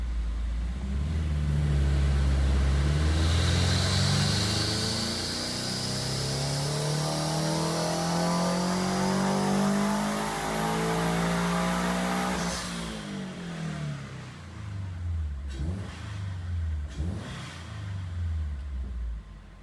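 A turbocharged Toyota GR86 running about 6 psi of boost through an AVO turbo kit revs hard on a dyno, its engine note climbing steadily for a long pull before lifting off, then a couple of short blips and the sound of it settling.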